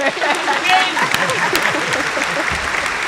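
Audience applause and hand claps in a live podcast stream, a dense continuous clatter of clapping throughout, with a voice talking over it.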